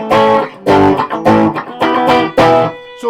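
Electric guitar with an EMG Hetfield set on the bridge pickup, played through an Orange TH30 amp into a 3x12 cabinet with a Moore reverb pedal in front: loud distorted chords struck in short repeated bursts, each ringing briefly.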